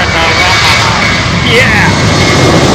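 Aircraft rumbling past at London Heathrow Airport, a loud, sustained engine roar that fills the whole moment, with a voice faintly audible beneath it.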